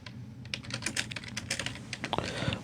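Rapid typing on a computer keyboard in a radio studio, a steady clatter of keystrokes running throughout with a low room hum beneath.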